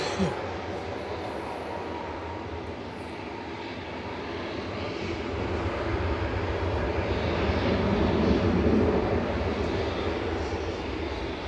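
A KLM jet at Manchester Airport gives off a broad, steady engine roar that swells slowly to a peak and then eases a little, heard from a distance outdoors.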